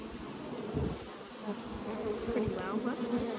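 Honeybees buzz around an open hive, a soft steady hum with individual bees droning close by, quiet and continuous.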